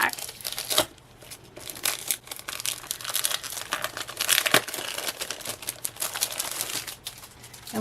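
A craft kit's paper pack is opened and handled close by, with loud crinkling and rustling bursts, sharp crackles and short pauses between them.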